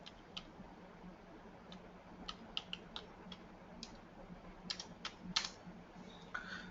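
A computer keyboard clicks as a Hive describe extended command is typed, with quiet scattered keystrokes in small irregular clusters, close and crisp over a low room hum, and no talking.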